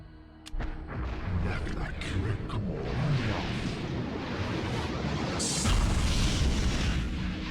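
A grenade explodes in Eternal Darkness with a sharp crack followed by a long, rumbling roar of blast noise that stays loud and dense for several seconds.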